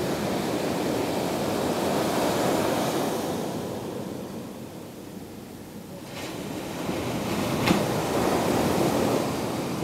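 Ocean waves break and wash onto a beach in Barbados, a steady loud rush of surf that eases briefly midway, then builds again with froth hissing as the water comes in.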